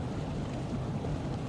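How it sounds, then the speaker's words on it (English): Ambient water and wind in the fantasy online game Drakensang Online, a soft, steady, low wash of lapping water and breeze, faint and continuous with no voices. "You will also hear ambient sounds like water"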